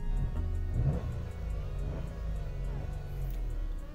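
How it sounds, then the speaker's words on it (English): A manual car's engine revs in neutral with no gear engaged, giving a close, steady low rumble that swells and eases over a few seconds, while someone talks lightly over it. "I'm revving the engine"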